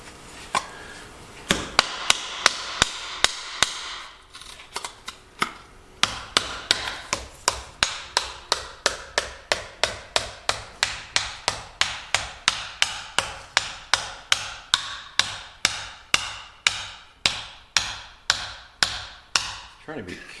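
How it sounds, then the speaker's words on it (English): A scraper is worked into a Homelite T12 transmission housing to pry it apart, producing a long run of evenly spaced sharp metallic taps that speed into a steady rhythm, with someone talking early on. "I grabbed a scraper. Let's see if we can get in here and get this separated a little bit better."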